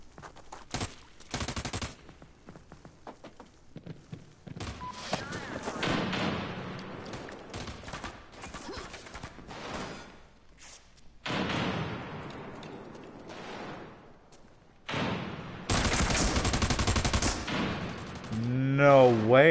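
Video game gunfire while shooting at an enemy, with bursts of rapid shots and single cracks in separate loud clusters and quieter gaps between them.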